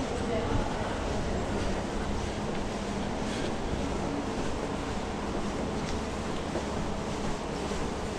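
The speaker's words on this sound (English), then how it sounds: "It's very windy here." Steady, blustery wind roaring across the microphone for the whole stretch, a dense broadband rush with no clear gaps.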